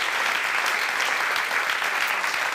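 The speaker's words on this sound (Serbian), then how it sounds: "Dajte veliki aplauz za njih." Studio audience at a talk show claps loudly and continuously, dense and close, with no pause for the whole stretch.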